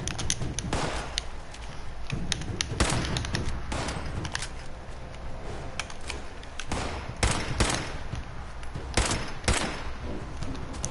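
Rapid bursts of video game gunfire crackle through a tense firefight, with repeated volleys and sharp single shots that come loud and close, one after another.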